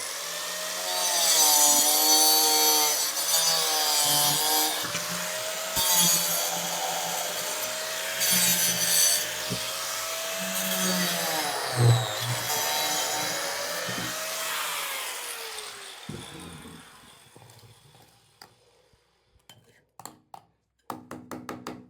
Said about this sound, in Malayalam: ഇനി ഇതിനെ ഒന്ന് ലെവലിലൊന്ന് കട്ട് ചെയ്തെടുക്കും